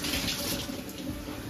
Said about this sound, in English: And then here is Henry washing his hands